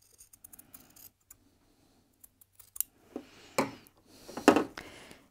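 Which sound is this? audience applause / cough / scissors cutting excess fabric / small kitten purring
scissors cutting excess fabric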